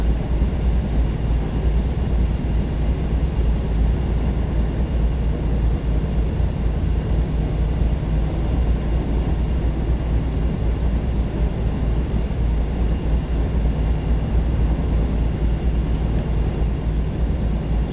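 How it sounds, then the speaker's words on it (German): A BR 218 diesel locomotive in Train Sim World 4 runs at 130 km/h on the Rhein-Ruhr main line near Essen, a steady loud engine drone and rolling rumble as it crosses over points. "Während wir mit 130 die Gleise wechseln"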